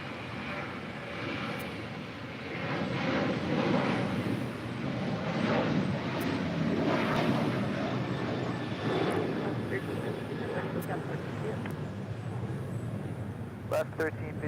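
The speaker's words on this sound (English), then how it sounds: "Next departure, Alaska Airlines Flight 1352, heading to San Jose, Costa Rica," An Alaska Airlines Boeing 737-800 departs LAX, its engine roar building after a quiet start and holding strong, with a voice talking over it.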